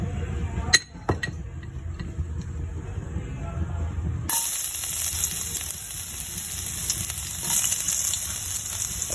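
Ginger hits hot cooking oil in a pan: a few sharp clinks come first, then a loud, steady sizzle bursts in partway through and keeps hissing close up to the end.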